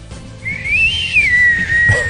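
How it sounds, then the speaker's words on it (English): A person tries to whistle: a single wavering, sliding whistled tone that rises and dips for about a second and a half, close and fairly loud, trailing off with a faint breathy end. "Whistling's never been my strong point."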